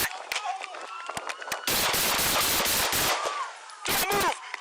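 A police officer fires a gun during an armed confrontation in Albuquerque. Loud, close shots come in rapid bursts with scattered sharp clanks between them, while voices shout.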